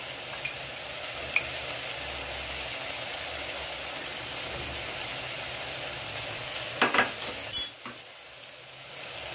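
Liver being stirred as it fries in a pan seasoned with garam masala and salt, a steady close sizzle with a few scraping clinks of a utensil near the end.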